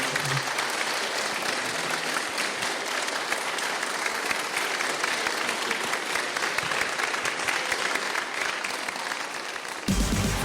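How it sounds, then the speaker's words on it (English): Audience applause closing a lunchtime fan panel at a Star Wars festival, a long, even wash of clapping from a large crowd that holds steady throughout before a brief change at the very end. "Big round of applause, please"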